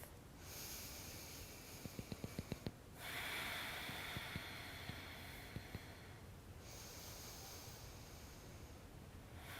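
Slow, deep breaths during a yoga exercise, each long airy inhale or exhale rising and fading over steady hiss. A few soft clicks fall between the breaths.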